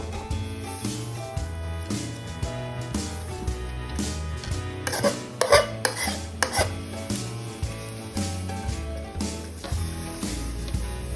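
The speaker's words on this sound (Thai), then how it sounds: "เราเอาเส้นอ่ะเทลงไป ใส่แม่งตามจำนวนที่อยากจะกินอ่ะ" Noodles are tipped into a pot of boiling water and stirred, giving a run of repeated scraping and clinking utensil strokes against the pot, with a short burst of louder clatter midway; no one speaks.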